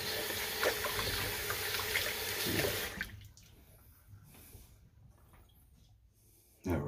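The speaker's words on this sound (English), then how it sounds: "Rinse this off." Water runs loudly and steadily while something is rinsed off, then cuts off about halfway, leaving a quieter room with faint scattered handling sounds before a short burst of water returns at the end.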